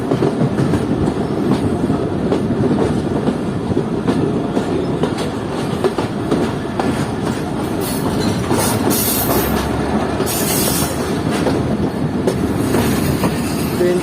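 The Mohen Jo Daro passenger train runs along the main line from inside a carriage, a loud continuous rumble with rhythmic wheel clatter over rail joints and occasional higher metallic squeals.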